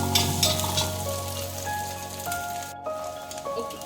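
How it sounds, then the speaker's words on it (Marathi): Egg bhurji mixture sizzles steadily in a pan while being sautéed, a dense, close frying hiss with faint stirring scrapes and no talking. "ओके, आता हे परतून झालंय छान."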